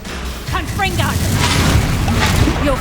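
A Confringo spell blast bursts in the Hogwarts Legacy video game with a heavy boom and crackling impact, held at a loud sustained level while voices speak over it.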